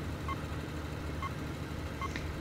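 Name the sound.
police warning beep in 18 Wheels of Steel video game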